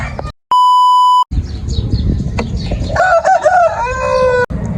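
A loud electronic beep cuts in first, then two broody hens squawk and cluck agitatedly close by as they fight, with scuffling and rustling underneath.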